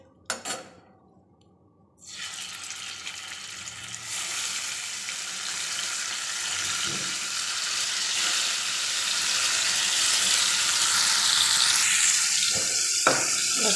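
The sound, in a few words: bitter gourd frying in hot oil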